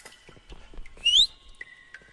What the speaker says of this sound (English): I heard that whistle.